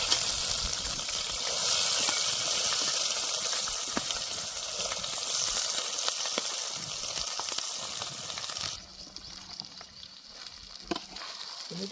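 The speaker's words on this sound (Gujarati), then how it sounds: "થોડી વાર આપણે આને આમનામ બાફવા દઈશું મકાઈને તેલમાં" Corn kernels fry in hot oil with cumin, curry leaves and asafoetida for a spiced corn snack, giving a steady loud sizzle and hiss that drops to a quieter crackle near the end, with no voices.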